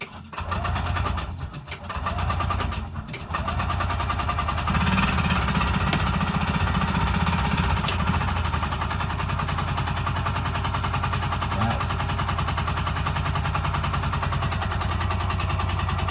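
A Yamaha G1 golf cart's small petrol engine, running on choke, sputters into life and then settles into a loud, steady, rapid idle that carries on unbroken for most of the stretch.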